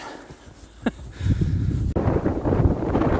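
Steady wind rushing through trees in freezing weather around -2°C, a broad continuous roar that swells and gusts, close and fairly loud, with no one speaking.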